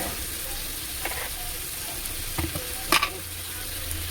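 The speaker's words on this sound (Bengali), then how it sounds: "মশলাটাকে ভালো করে ভেজে নেব" Turmeric, red chilli, coriander and cumin powder frying in oil give a low, steady sizzle, with a few scraping stirs and soft clinks against the pan.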